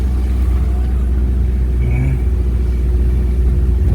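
A small, underpowered car engine labors up a steep mountain road in Germany, a steady low droning rumble that holds close and loud without rising.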